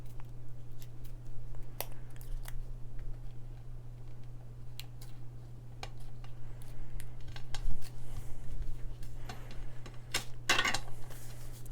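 Scissors snip through patterned paper for a simple layered birthday card, giving scattered short crisp cuts over a steady low hum, with a denser burst of snipping near the end.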